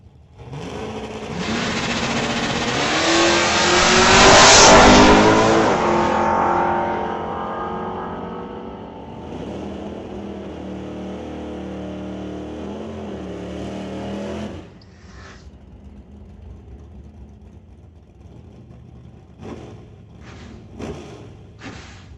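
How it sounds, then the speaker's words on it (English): Drag racing cars, including a 1967 Plymouth, launch hard at a drag strip, engines roaring to a loud peak that then fades away down the track, with faint engine noise and a few sharp pops trailing behind. "Running the 1967 Plymouth for Rad Torque Systems, not running the wheel standing Barracuda like he normally does."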